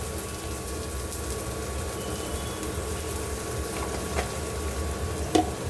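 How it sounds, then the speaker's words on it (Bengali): Ingredients frying in ghee with turmeric, a steady even sizzle running throughout, with a few faint clinks near the end. "ঘিতে এটা ভেজে নিচ্ছি"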